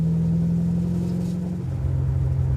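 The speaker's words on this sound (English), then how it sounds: "under acceleration, it's definitely whining in the rear end" A Ford Mustang Cobra R accelerates with a whining rear end, a loud close engine drone with a steady tonal whine riding over the rumble that drops in pitch partway through.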